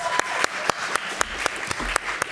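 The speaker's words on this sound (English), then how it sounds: "Give her a round of applause." Applause from a small live audience at a talk in the Balie, Amsterdam, heard as sparse, sharp individual claps at an irregular pace, fairly close and moderately loud.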